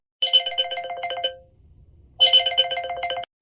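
Mobile phone ringtone signalling an incoming call, two loud, close bursts of a bright, rapidly pulsing electronic melody separated by a short pause, with no talking.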